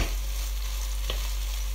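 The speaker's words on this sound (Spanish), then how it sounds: "lo dejamos sofreír un poquito y ya tenemos nuestro arroz con curry listo" Brown rice with curry fries in a pan with a steady, close sizzling hiss and a couple of brief scraping stir sounds.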